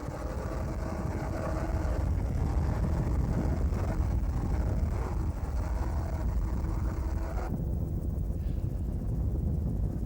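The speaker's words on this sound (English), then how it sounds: "The roar of the petrol engines could be distinctly heard above the purr of the diesels" Class 1 powerboats racing in 1994, a continuous broad engine roar with wind buffeting, steady and loud throughout with no voices.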